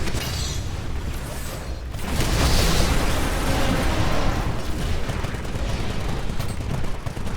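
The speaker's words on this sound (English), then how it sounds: "as I continue to fire it speeds up" Gunfire from a weapon in the Titanfall video game, a dense, continuous burst of rapid shots and explosive booms that stays loud and steady throughout, with no talking.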